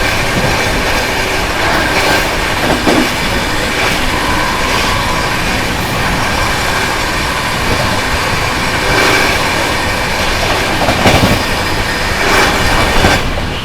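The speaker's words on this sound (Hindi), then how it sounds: "अब आप लोगों को पैरेलल ओवरटेक दिखाते हैं प्रयागराज दादरी स्पेशल का" The Prayagraj Dadri Special train roars past close by on a parallel track during an overtake, a loud continuous rumble of wheels and carriages with rhythmic clatter throughout.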